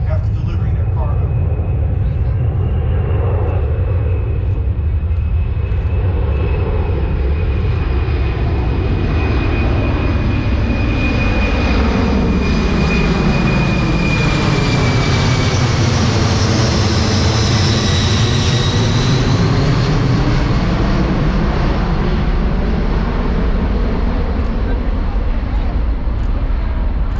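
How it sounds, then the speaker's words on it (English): A C-17 Globemaster III transport aircraft at an airshow in Orange County, New York, its jet roar swelling loud as it passes close overhead, then fading, with a high turbine whine over a sustained rumble. "How's about that beautiful plane, everybody? Looking pretty good, huh? C-17 Globemaster 3."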